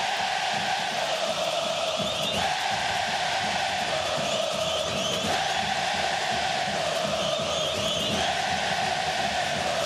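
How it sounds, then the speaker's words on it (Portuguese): Vitória football supporters fill the Barradão stadium with a dense, continuous roar of crowd noise and chanting as players walk onto the pitch for a state championship semifinal, loud and sustained throughout. "Se liga no barulho da torcida do Vitória."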